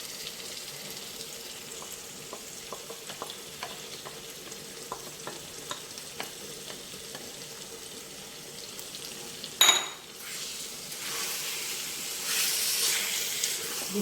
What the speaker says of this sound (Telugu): ఇది కొంచెం వేగనిద్దాం.